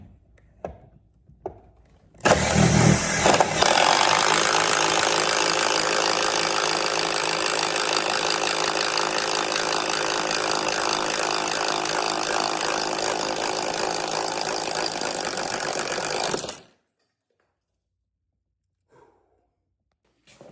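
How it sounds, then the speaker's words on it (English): A cordless drill whines loudly and steadily for about fourteen seconds as it bores through wood studs, then cuts off abruptly, leaving near silence and faint clicks. "all the holes are drilled, every single one of them"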